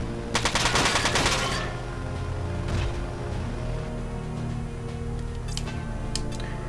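A quick burst of machine-gun fire from a mech in Front Mission 4. A loud rattle of shots comes in the first second and a half, then fades into quieter battle ambience with a few faint later clicks.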